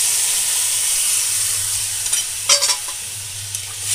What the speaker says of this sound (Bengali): এবার গরম জলটা আমি ওর মধ্যে দিয়ে দেব